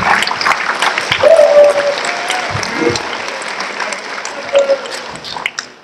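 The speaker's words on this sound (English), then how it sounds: "Let's give another round of applause for all of the award recipients tonight" Applause from an audience at a university honors awards night for the award recipients, a loud, dense crowd clapping that swells early, holds steady, then thins out toward the end with a few scattered voices.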